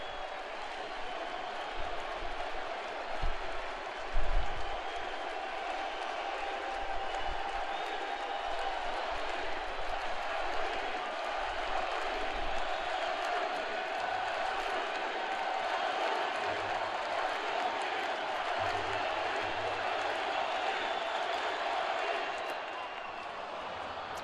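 A baseball stadium crowd on its feet during an NLDS playoff game, a broad steady roar of cheering sustained throughout, with a brief louder surge early on and faint commentary under the noise.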